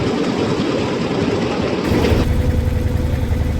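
A small trawler's engine runs on the Pasur river, a loud, continuous close drone with a steady throbbing rumble and no pauses.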